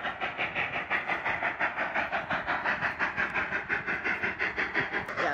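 A passing train clatters by with a steady, rhythmic clickety-clack of wheels over rail joints, moderately loud and close, repeating evenly for several seconds with a faint hiss beneath and no voices.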